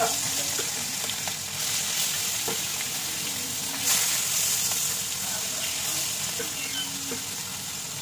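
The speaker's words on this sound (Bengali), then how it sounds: "হালকা করে ইলিশ মাছ সবসময় হালকা করে ভাজতে হবে।" Hilsa fish gently frying in a hot wok, a continuous close sizzle and hiss with a few soft clicks from turning or stirring, steady in level throughout.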